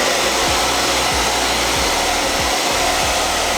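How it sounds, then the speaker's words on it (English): A handheld hair blow dryer set to hot runs at full power close by, drying freshly cut hair. It gives a loud, steady roar with a faint rhythmic flutter and no talk over it. "grab your blow dryer, turn it on to hot, and then just do this."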